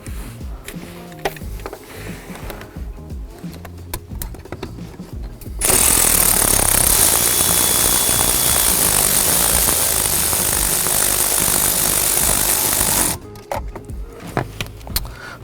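A loud power tool runs close for about seven seconds straight, driving a bolt back in with a ground terminal ring on a 2024 Ford Ranger, with quieter handling noises before and after.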